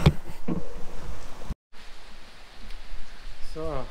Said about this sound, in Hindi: पहुँचते ही बारिश शुरू हो गई।